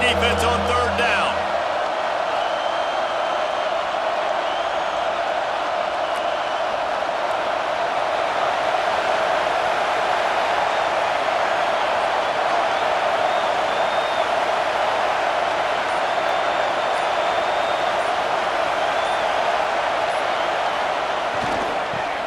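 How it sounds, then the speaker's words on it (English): Stadium crowd in the College Football 26 video game on a defensive third down, a steady loud roar of fans holding constant throughout, with a commentator's voice briefly at the start. "Decibels rising as the crowd gets behind this defense on 3rd down."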